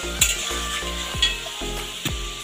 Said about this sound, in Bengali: আলুটা আরেকটু ভাজা হলে তুলে নেব